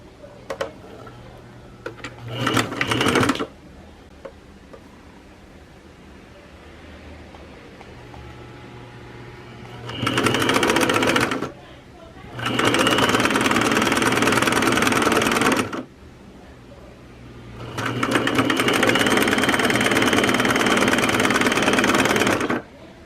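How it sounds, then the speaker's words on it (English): Sewing machine stitching a seam on a cotton scarf made from an old dress, running in four bursts of steady rapid whirring with quiet pauses between them, the longest runs near the end. "You can use sewing machine or you can hand sew."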